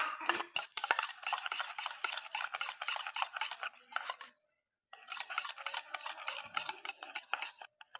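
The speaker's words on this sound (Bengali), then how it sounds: "এটাকে ভালো করে আমি মিক্স করব।" Half a teaspoon of aloe vera gel being stirred into a homemade face pack with lemon juice, a spoon scraping and clinking rapidly against a bowl in steady rhythmic strokes, with one brief pause midway.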